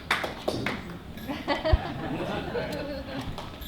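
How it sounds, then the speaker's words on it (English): A lone hand clap from an audience member rings out once, sharp and brief, amid a low murmur of crowd chatter and room noise. "Only one clap."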